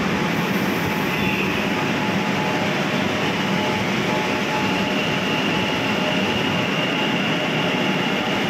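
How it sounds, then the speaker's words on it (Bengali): An East-West Metro train pulls out of a station on the Sealdah–Salt Lake line in Kolkata, a loud continuous rumble with a faint steady whine running through, no voices. "ওই ট্রেনটা কিন্তু ছেড়ে দিল।"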